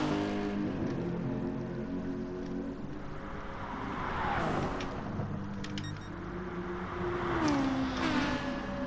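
Race car engines drone in GT Sport at Circuit de Sainte Croix B, a steady, moderately loud engine note with rising and falling pitch as cars pass, no talk over it.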